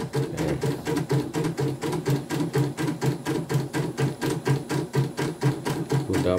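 An embroidery machine runs steadily after its motor (dynamo) was replaced, sewing with a fast, even, repetitive mechanical rhythm, close and continuous throughout with no talk.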